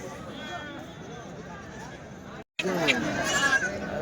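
Goats bleat among a busy goat and buck market crowd, a few close wavering bleats rising over steady background chatter and someone talking nearby.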